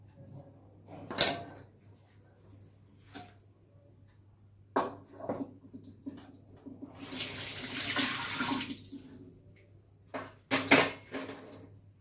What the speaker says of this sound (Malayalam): നമുക്ക് സമാധാനമായി കാരണം എള്ള് നന്നായിട്ട് കഴുകി